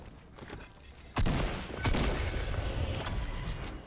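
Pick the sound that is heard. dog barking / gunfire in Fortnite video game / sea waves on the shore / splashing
gunfire in Fortnite video game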